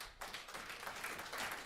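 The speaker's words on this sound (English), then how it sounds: "you're canceling me with your clapping." Audience clapping at an Alberta independence talk in Smoky Lake, a faint, steady patter of many hands that starts abruptly and carries on evenly.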